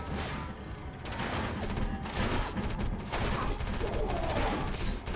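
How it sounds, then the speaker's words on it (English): Enemy gunfire in the video game Area 51, a dense, continuous fusillade of rapid shots and crashing impacts, loud and sustained with no pause. "they're still shooting me"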